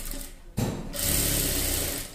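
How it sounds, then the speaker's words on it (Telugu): A sewing machine stitches the folded hem of a small skirt for a young child. A short burst of close, rapid mechanical whirring comes first, then a brief pause, then a longer steady run of stitching. "ఇదిగోండి ఇలా ఫోల్డింగ్ చేసి ఇలా స్టిచ్చింగ్ చేసుకోవాలి ఒకసారి"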